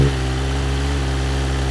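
A BMW M1000R motorcycle on its stock exhaust, engine idling with a steady, deep, throbbing rumble, loud and close, heard alone for a short moment.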